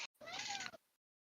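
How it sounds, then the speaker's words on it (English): A domestic cat gives a single drawn-out meow, close and clear, bending up then down in pitch before trailing into silence. "Oh, kitty."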